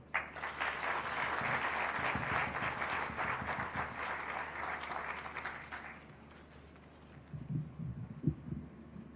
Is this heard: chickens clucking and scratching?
no